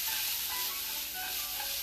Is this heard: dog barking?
no